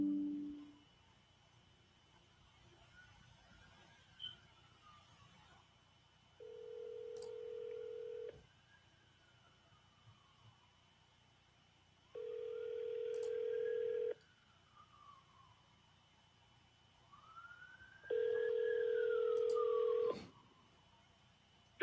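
Telephone call being placed: a quick burst of keypad tones opens, then a ringback tone repeats in steady bursts about every six seconds, each ring clear and fairly loud, with no talk in between.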